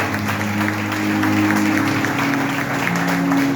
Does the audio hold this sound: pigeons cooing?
no